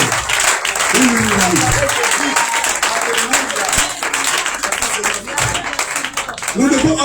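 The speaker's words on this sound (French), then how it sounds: "On acclame le Seigneur Jésus-Christ." A church congregation applauds and acclaims during a Feast of Tabernacles conference, dense sustained clapping with loud shouted voices rising over it across the whole stretch.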